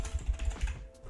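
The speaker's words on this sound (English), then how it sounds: "you type in your email" Quick run of keystrokes on a computer keyboard while an email address is entered, several soft irregular taps close by, then a brief pause near the end.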